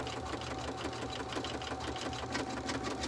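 An embroidery machine stitches an in-the-hoop vertical wallet with a fast, even mechanical whirr and rapid needle pulsing that runs steadily and close up, with no talking.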